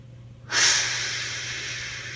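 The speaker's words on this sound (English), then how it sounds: "Take 3 big breaths." A single long, deep breath taken as part of a calming breathing exercise, starting abruptly after a brief quiet moment and sustained as a steady airy rush, close to the microphone, with no talking.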